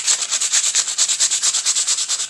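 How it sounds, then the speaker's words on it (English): Sandpaper rubbed by hand over a small wooden stake for an Easter craft, fast steady back-and-forth strokes, close and loud, about eight strokes per second with no talking. "sand this down"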